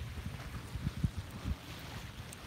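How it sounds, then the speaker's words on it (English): Gusty wind buffets the microphone in low rumbling bursts on a beach, with a steady outdoor wash behind it and no voices. "It's very windy."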